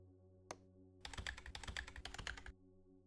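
Typing on a computer keyboard at a desk while working in 3D software, a quick burst of close, crisp key clicks lasting about a second and a half, after one isolated click.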